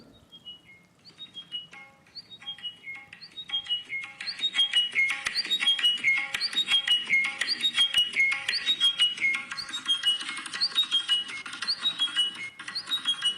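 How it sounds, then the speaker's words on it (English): A bird sings a rapid series of descending chirps and trills, repeating quickly and growing fuller, heard as played-back audio alongside faint tapping. "Bird singing at the top."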